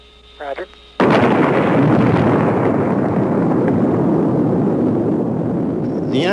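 Bomb explosions erupt as a sudden massive roar after a brief spoken radio-style exchange, then sustain as a dense, loud rumbling blast that fills the rest of the stretch.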